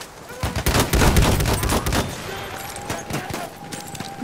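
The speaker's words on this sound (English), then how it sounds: "It's an enemy shot." Gunfire crackles in Battlefield 1 during a Conquest match, a dense burst of rapid shots close by that thins into scattered, fainter reports farther off, with no talk in the sound.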